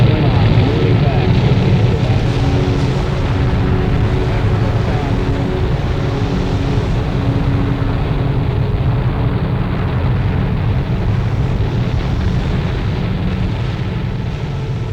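Massive rocket engines of about 7.7 million pounds of thrust roar steadily at liftoff, a loud, continuous broadband rumble with a voice talking over it.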